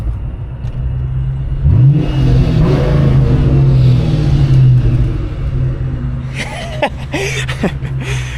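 A car rolls up to a house and garage, its engine rumbling and briefly revving loud and close, then settling as the car stops, with clunks near the end.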